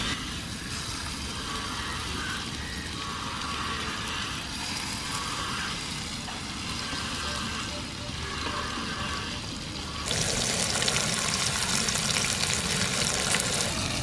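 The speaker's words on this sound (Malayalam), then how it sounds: "അപ്പോൾ എണ്ണ ചൂടായിട്ടുണ്ട്. അപ്പോൾ നമ്മൾ മീൻ ഓരോന്നായിട്ട് അങ്ങോട്ട് ഇടണം." Karimeen fish frying in hot oil on a gas stove makes a steady hiss for several seconds. The hiss then swells into a louder, denser sizzle for the last few seconds as more fish goes into the pan.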